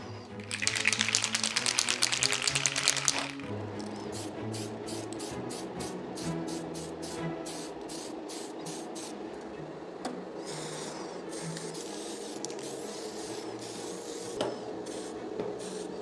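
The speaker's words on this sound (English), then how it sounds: "All these like dark panel lines or dark stripes that I created with the spray can" A spray can hisses in a loud, steady burst while dark panel lines are painted onto a 1/6 scale FT17 RC tank model, then gives way to quieter rhythmic rasping and handling noise.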